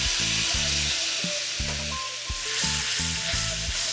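White wine poured into a hot pan where garlic has been cooking, sizzling loudly and steadily while deglazing, with rhythmic low thumps and faint tonal scraping beneath the hiss.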